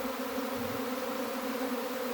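A dense swarm of honeybees fills the air in a forest garden with a steady, continuous buzzing drone, close and unbroken throughout, with no voices.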